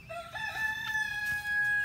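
A rooster crows nearby, one drawn-out call with some clucking from the flock around it.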